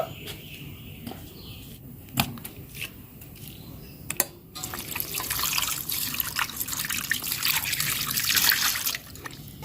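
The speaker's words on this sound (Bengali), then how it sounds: "এবার পরিষ্কার করে একবার ধুয়ে নেব" Cut pieces of hilsa fish are rinsed in water, with a few splashes and drips followed by a stretch of steady pouring, running water up close.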